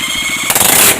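A power drill bores into parts of a rusty engine under restoration, pulsing in a steady rhythm before rising into a louder, rougher grinding whir near the end.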